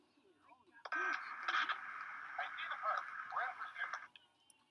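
Police radio chatter from the video game GTA 5 comes through a tinny, band-limited speaker, a short burst of garbled dispatcher talk with clicks at start and end.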